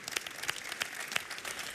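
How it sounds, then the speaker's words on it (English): At the BMW stand of the 2019 Geneva Motor Show, a few scattered, faint claps ring out about every third of a second over low background hubbub. "massive round of applause, to Harald Krüger"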